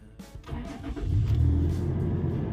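A Toyota FJ Cruiser engine is started with the key; it catches with a rising rumble and settles into a steady, close idle.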